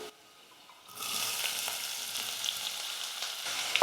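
Finely chopped onions drop into hot oil for a tiffin sambar. The pan bursts into a steady close sizzle after a quiet start, ending with a brief clatter.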